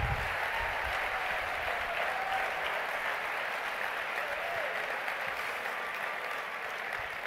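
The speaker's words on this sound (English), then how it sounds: "Big round of applause for the five." An audience at a keynote talk gives a steady round of applause, a dense wash of clapping that holds evenly for several seconds at moderate distance.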